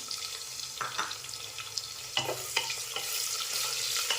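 Chopped onions and whole spices sauté in a hot pan for spinach pulao, giving a steady close sizzle broken by the scrape and clatter of a spoon stirring.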